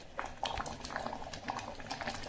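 Dal cooked with tender tamarind leaves simmers in a pot, giving soft, close, continuous bubbling and popping with no talk.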